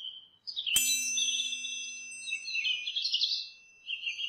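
Caged birds in a Bengali cartoon chirp and tweet in bright, close, continuous calls, with a sharp chime-like ring near the start and no talking.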